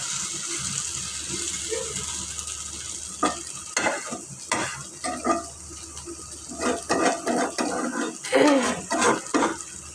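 Pointed gourd (potol) bhaji frying in a pan, a steady sizzle under repeated scraping and clattering strokes of a spatula stirring against the metal, close and fairly loud.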